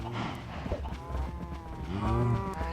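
Cows in a video game moo in long, low drawn-out calls over a steady busy background din, with a second lowing near the end.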